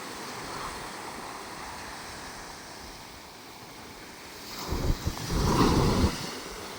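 Waves wash and crash on a shore through steady wind noise, with a louder surge of breaking surf arriving near the end.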